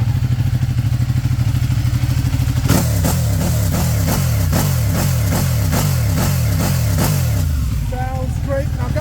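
A motorcycle engine idles with a low steady rumble, then revs repeatedly in a rhythmic series of sharp throttle blips, loud and close, with a voice briefly near the end.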